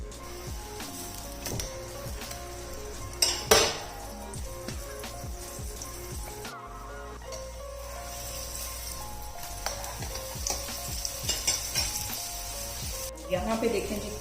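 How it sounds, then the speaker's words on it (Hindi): Egg paratha frying in oil on a tawa over a low flame gives a soft, steady sizzle with scattered crackles and a few metallic clinks as it is turned; someone talks over the cooking. "लो फ्लेम पे हम इसको फ्राई करेंगे।"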